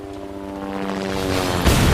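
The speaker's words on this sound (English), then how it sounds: "there goes the helicopter" A helicopter flies off in the Resident Evil 2 Remake video game, a loud, steady rotor drone with a humming engine tone that grows louder and swells into a rushing burst near the end.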